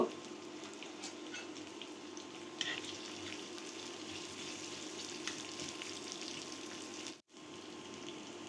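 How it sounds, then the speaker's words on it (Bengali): Onion and green chili fry in soybean oil with a soft, constant sizzle and crackle, fairly quiet and close, with a few faint pops and a brief dropout near the end. "দিয়ে দিলাম পেঁয়াজ, দিয়ে দিচ্ছি কাঁচামরিচ, দিয়ে দিচ্ছি তেল, সয়াবিন তেল দিয়ে দিলাম। 1 মিনিটের মতো ভেজে নিব।"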